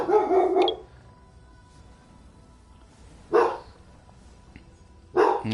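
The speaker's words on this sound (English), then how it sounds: "My dog." A dog barking indoors, three separate short bursts of loud, close barks with long quiet gaps between them.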